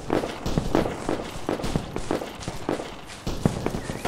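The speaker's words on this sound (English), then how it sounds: "That's enemy weapons fire." Enemy gunfire in the military shooter ArmA 3 crackles in a rapid, uneven string of sharp reports, moderately loud and fairly close, running throughout with no one talking.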